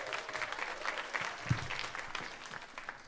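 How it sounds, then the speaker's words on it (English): Audience applause at a live comedy show at a convention, a steady spread of clapping across the whole stretch with a crowd murmur under it and a few louder claps near the middle. "Give yourselves a round of applause for supporting some live comedy"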